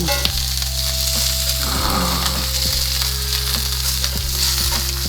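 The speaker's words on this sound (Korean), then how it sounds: "겉에만 30초로 시어링 해주겠습니다" A tomahawk steak sears in a smoking-hot oiled pan, a loud, steady sizzle with crackling spatter throughout, close and continuous, with a few light knocks of handling.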